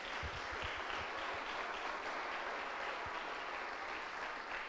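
Church congregation applauding, a steady, faint wash of clapping from a crowd that stays even for several seconds, heard at a distance.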